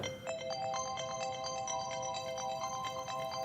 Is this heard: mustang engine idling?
no